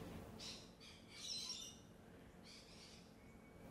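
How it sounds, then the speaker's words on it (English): Birds outside a house give faint, distant squawks and chirps in a few short clustered bursts, quiet against a steady low background hum. "It's nice to have all these birds flying around just outside the house"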